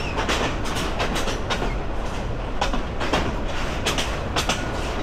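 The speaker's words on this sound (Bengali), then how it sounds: "কি ট্রেন রে বাবা!" A train passes a small rural station, its carriages clattering steadily nearby with a continuous rumble and repeated sharp clickety-clack bursts from the wheels.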